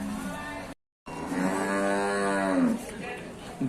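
Cattle at a livestock market in northern Thailand: one loud, close, drawn-out moo with rich harmonics, after a brief silent break, over steady market background noise.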